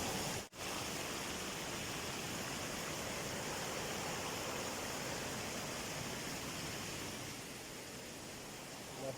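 Deojhara waterfall roars as a continuous broadband rush of falling water, dense and steady throughout, with a brief dip near the start and no clear voices above it.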